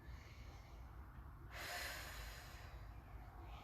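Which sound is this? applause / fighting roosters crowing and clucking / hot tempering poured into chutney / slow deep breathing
slow deep breathing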